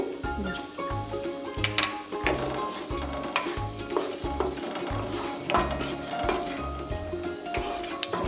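Cumin seeds sizzling in hot coconut oil in a pan, a steady frying hiss under rhythmic stirring and clinks of a utensil on metal, with occasional talk.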